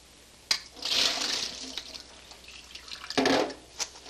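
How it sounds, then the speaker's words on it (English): Cooked lentils pour into a colander in two short splashing bursts of draining water, close and fairly loud, with quiet gaps and small drips between. "We're going to drain it in the colander."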